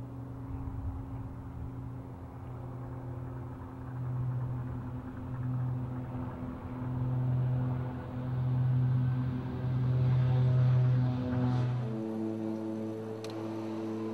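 A King Air twin turboprop takes off from runway 16, its engines droning steadily with a low, pulsing hum that swells and shifts in pitch near the end, loud and continuous throughout.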